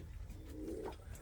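Pigeons in a breeding loft give a faint, brief low coo under a quiet, rumbling background.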